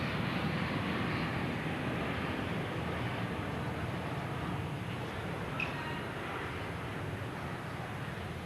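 A fixed-wing aircraft passes overhead during an outdoor tennis match, a steady broadband engine roar holding at a constant level throughout, with no voices heard.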